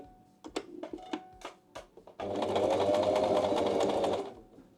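A sewing machine stitches down the corner of a single welt pocket on pants, joining lining and welt piece. A few light taps come first, then a steady, fairly loud run of stitching lasting about two seconds.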